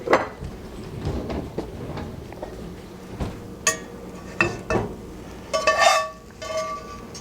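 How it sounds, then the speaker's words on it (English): Scrambled eggs cooked in a hot cast iron pan are scooped out and plopped onto a plate, with clattering clinks of utensil, pan and dishware in a series of short knocks and a louder scrape-and-clink cluster near the end. "And plop your eggs onto your plate"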